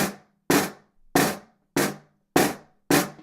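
Six slow, evenly spaced snare buzz strokes, each a short pressed rattle that dies away quickly, separated by silence.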